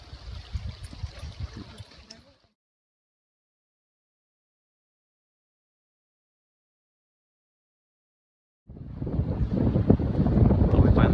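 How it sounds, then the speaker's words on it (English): Wind gusts across an exposed spring backpacking campsite on Sheldon, buffeting the microphone in loud rumbling bursts, with a silent gap in the middle before the roar returns stronger. "Sorry about the wind."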